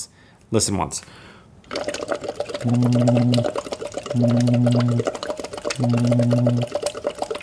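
Water bubbles through a straw, a steady burbling with three sustained voiced hums blown into it, each lasting under a second, close and fairly loud, after a short spoken phrase.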